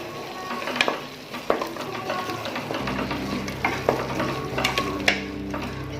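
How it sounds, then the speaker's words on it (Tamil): Masala with Kashmiri chilli powder and green chillies sautéing in oil for tomato rice, a steady sizzle under repeated scraping and clattering of a spoon against the pan, fairly close and busy. "இப்போ நல்லா வதக்கிக்கலாம்."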